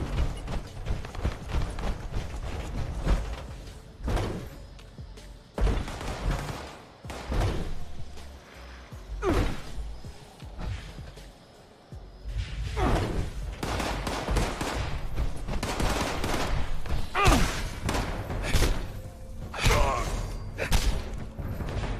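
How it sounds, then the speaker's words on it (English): Rapid bursts of gunfire in the video game Fallout 76 crackle in uneven volleys across the scene, with short pauses between clusters of shots and occasional mechanical clanks. "What are you shooting at?"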